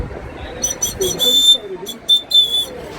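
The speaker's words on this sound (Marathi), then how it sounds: "हा शिट्टी आहे, याच्यामध्ये पाणी घातलं की खूप आवाज छान येतो" A water-filled toy whistle blown at a festival shopping fair gives high, warbling trills in short repeated bursts, with faint voices and market chatter underneath.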